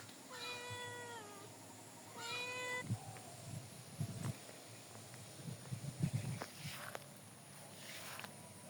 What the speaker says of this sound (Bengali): বিলাই ইন্দুর ধরার জন্য কোথায় বসে রয়েছে।